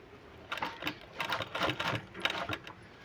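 Short, quiet bursts of machine stitching come in several stop-start runs as palazzo pant pieces are joined along a designed seam.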